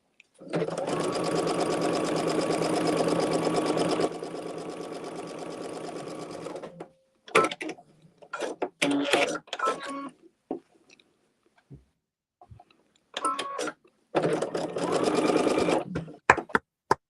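A sewing machine stitches a quilt block along a drawn sewing line around its perimeter, running in a long steady burst, then short stop-start bursts, then another sustained run, loud and close.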